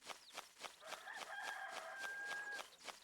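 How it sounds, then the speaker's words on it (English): Rooster crowing once in a long drawn-out call close by, over a backdrop of rapid repeated clucks or pulses from other fowl. "I may be biased because of this rooster right now"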